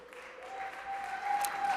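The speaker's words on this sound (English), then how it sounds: "you may want to hold your applause for a sec" Audience applause during a state governor's budget address in a legislative chamber, steady sustained clapping from a large room that swells slightly, with a faint tone running beneath it.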